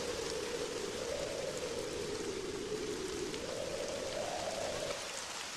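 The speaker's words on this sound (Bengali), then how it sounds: "সেই সকাল থেকে বৃষ্টি হয়েই চলেছে" Steady, heavy rain pours without a break as an animated-story sound effect, an even hiss of drops hitting surfaces that stays constant throughout.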